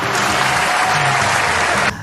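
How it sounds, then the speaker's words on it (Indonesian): Loud, dense applause from an audience for Oncop at a stage show, a continuous roar of clapping that stops abruptly near the end. "Tepuk tangan dulu untuk si Oncop"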